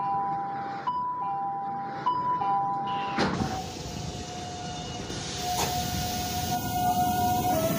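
Door warning signal aboard an Alstom Série 4000 train in the HMMSIM2 simulator on the Santa Cruz line, a steady two-tone beeping alternating in a loop, then a long held tone over hiss and rumble as the doors move.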